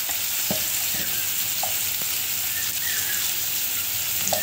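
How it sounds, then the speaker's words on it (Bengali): Potatoes for a Bengali-style egg curry sauté in a pan, a steady dense sizzle and fry that runs throughout, close and fairly loud, with a few faint scrapes and knocks of a utensil, no talking. "আলুগুলোকে ঢাকনা চাপিয়ে কষে নেব।"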